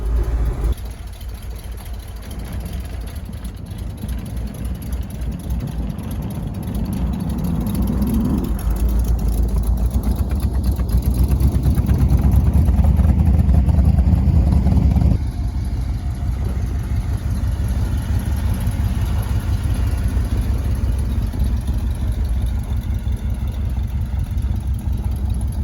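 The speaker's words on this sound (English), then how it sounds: "Oh yeah, there's that lope." A 1971 Ford F250 Highboy engine idling with a lumpy lope, a steady deep rumble that rises slightly in the middle then settles, sustained close by with no talking.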